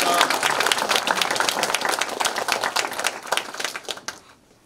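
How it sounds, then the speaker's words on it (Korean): A crowd at a Volunteer Fire Brigade Day ceremony gives sustained, lively applause to welcome the guests. The clapping stays loud and dense, then tapers off quickly at the end. "한 분 한 분 소개될 때마다 큰 박수로 환영해 주시기 바랍니다"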